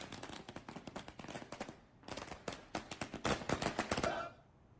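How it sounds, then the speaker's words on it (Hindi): Firecrackers set off by farmers celebrating in Rudrapur, a rapid string of sharp cracking bursts in quick irregular rhythm, loud and close, pausing briefly midway before resuming and fading out. "किसानों ने रुद्रपुर में जमकर आतिशबाजी की"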